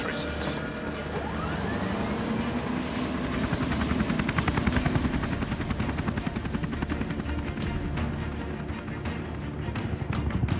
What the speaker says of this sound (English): Lifesaver 23 is taxiing for departure runway 36.